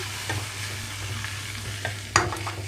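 Chopped tomatoes fry in a pan over ginger garlic paste, giving a steady close sizzle with occasional stirring scrapes and one sharper clatter near the end, no voices.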